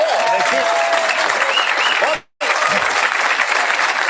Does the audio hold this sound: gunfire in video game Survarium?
no